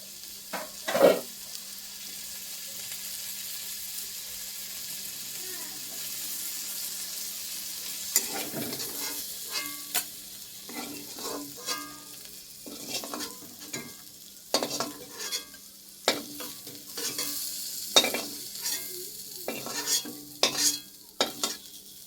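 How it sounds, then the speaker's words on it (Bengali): Food frying in a wok is stirred, giving a soft sizzle broken by irregular scraping and clattering strokes that grow busier in the second half, close by with no talking. "নেড়ে চেড়ে এবার এটা নামিয়ে দিই"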